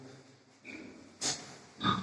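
Faint, close snorts and short grunts from young pigs, a few separate bursts with quiet breathing between them.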